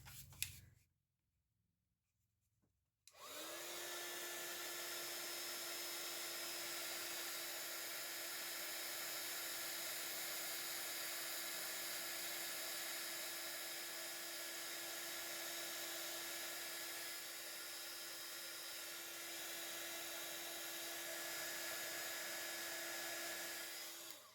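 A heat tool blows a loud, steady whining hum for about twenty seconds after a brief quiet start while it melts embossing powder for craft tags, with no voices heard.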